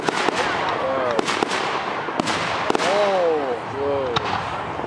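Canada Day fireworks in Markham, 2011, pop and crack in scattered sharp bangs from some distance, while people nearby talk and make excited exclamations between and over the bursts.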